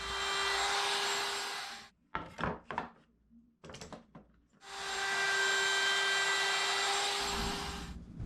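A router rounds over the edge of a 3/4 inch test board, giving two loud sustained whining bursts separated by a pause filled with brief scraping and knocking handling sounds, with no talk.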